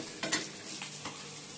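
Onion, dry red chili and black cumin tempering hits a pan for dal, a soft, brief sizzle with a couple of light stirring scrapes near the start, fading to a faint hiss.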